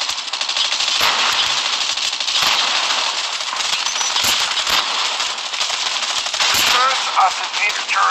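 Loud, nonstop rapid gunfire and explosive blasts from the video game Call of Duty Mobile form a dense wall of crackling shots throughout, with a few sharper bursts standing out.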